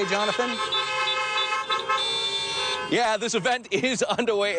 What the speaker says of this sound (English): I know you can hear the car horns honking right now.